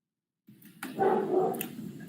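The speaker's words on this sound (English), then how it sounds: "I think my dog may have heard your dog barking because mine started barking too." A dog barking and whimpering over a remote call line, a short burst of muffled yelps and barks, moderately loud and slightly distorted.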